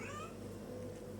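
A pet cat meows to be let out in the morning, a short faint call indoors over low background hum, with no talk.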